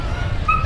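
A dog among Kuya Jason's dogs at a grotto gives a quick yip and a thin whimper, a brief close sound over a low background rumble.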